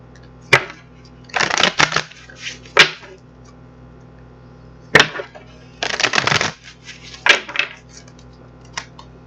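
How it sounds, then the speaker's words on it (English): Several bursts of riffling and snapping cards, a tarot deck being shuffled repeatedly at close range with short pauses and sharp taps between rounds. "we're going to get this deck shuffled up"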